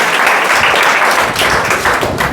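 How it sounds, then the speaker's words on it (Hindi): Students in a classroom clap together in a dense, continuous burst of applause lasting a couple of seconds, fairly loud and close. "चलो बहुत अच्छा, ताली बजाओ जी"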